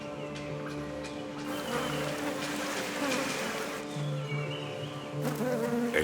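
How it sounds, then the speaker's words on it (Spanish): A low, steady buzz of flies swarming around carrion on a lagoon shore, with faint wind and a few louder passes near the end. "Las moscas que atrae su carroña son como un buffet libre para el insectívoro."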